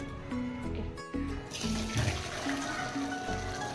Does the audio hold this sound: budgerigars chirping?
no